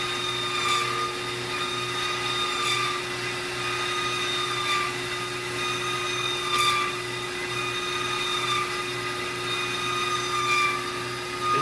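HEM VT 150A-SS vertical band saw runs through a cut with a steady, even hum and a constant whine, moderately loud and unchanging.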